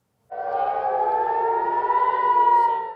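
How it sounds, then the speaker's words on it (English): A single wailing air raid siren in Israel during an Iranian ballistic missile attack rises in and holds a steady, slowly climbing tone, loud and uninterrupted with no voices. "No sooner had the sirens in Israel sounded"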